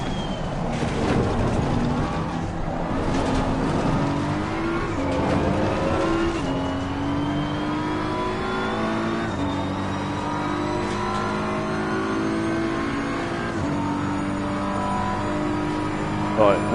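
An Audi race car engine revs hard on track, loud and close, climbing through gears in repeated rising sweeps with brief drops at each shift, droning continuously for the whole stretch.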